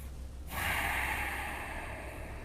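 One deep breath during a pause in a strong-flow yoga class, a sudden airy exhale or rush of breath that starts abruptly and then holds steady and close, with no talking.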